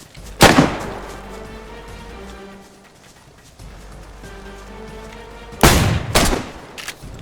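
Gunshots in a video game, likely from an SKS rifle, two loud sharp cracks several seconds apart with echoing tails, over a low steady game background hum.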